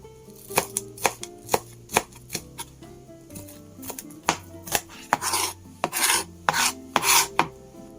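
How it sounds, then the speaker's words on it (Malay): A knife dices vegetables into small cubes on a board for kacang phool (foul medammas). Crisp, irregular chopping knocks come in quick bursts over faint background music, with no talking. "Potong dadu taklah terlalu besar sangat"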